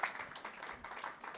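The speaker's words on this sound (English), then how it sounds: "Give yourselves a round of applause." A round of applause from an audience at a county auditors' continuing-education session, with faint, thin clapping from a small group that stays steady and brief.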